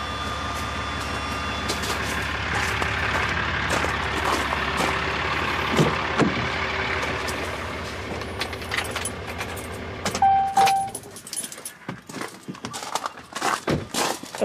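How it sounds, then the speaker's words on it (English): A truck engine idles with a steady low rumble, then shuts off, leaving quieter clicks and a jangle of keys. "Now we'll turn off the truck and make sure that this unit turns off."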